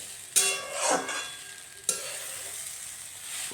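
Okra frying in hot oil with garlic, a close, steady sizzle broken by two sharp bursts of louder crackle where the pan is stirred. Faint scrapes of a utensil sit under the hiss, with no talk.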